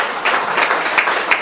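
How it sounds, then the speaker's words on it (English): An audience at a post-debate election analysis event gives steady, dense applause, many hands clapping together at close range with no voices over it. "You can give them all an applause now."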